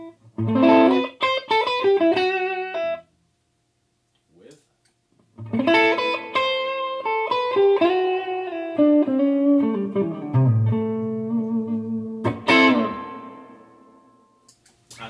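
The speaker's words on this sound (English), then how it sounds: "Let's move across and maybe stick a bit of reverb on there." A clean electric guitar through a Zoom MS-50G multi-effects pedal plays chords and single notes drenched in reverb, with notes ringing out and decaying into the space between phrases.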